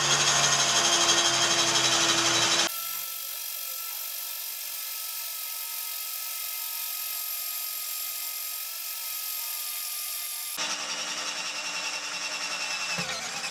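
A cheap cordless 12V Titanium drill on speed 1, fitted with a small titanium step bit (up to 12.7 mm), bores through 2.5 mm steel plate. It gives a loud, steady, high motor whine with grinding onset and finish, and no talk.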